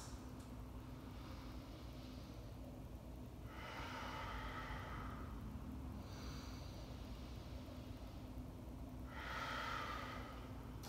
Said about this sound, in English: Three more slow, deep, deliberate breaths.